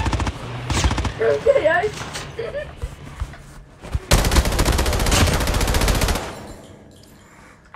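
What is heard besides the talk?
gunfire from the video game Call of Duty Mobile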